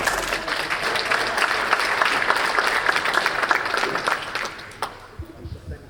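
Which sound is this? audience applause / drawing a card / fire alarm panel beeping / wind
audience applause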